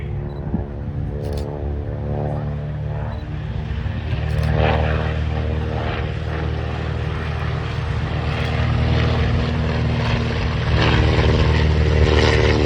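A vintage Bristol F2B biplane flies over an aerodrome, its propeller engine droning loudly and steadily for the whole stretch, swelling slightly as it passes.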